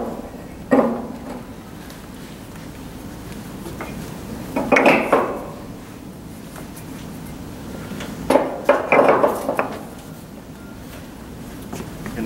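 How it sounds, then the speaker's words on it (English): Refractory stones go into the firebox of a wood stove. A few heavy clunks and scraping knocks come close by, in three separate bursts with quiet pauses between them. "replace the refractory stone in the firebox"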